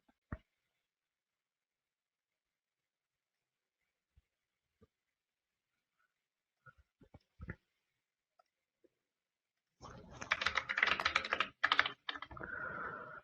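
Sparse, isolated keystrokes on a computer keyboard give way to a fast, dense burst of typing near the end, close and clear with no talking.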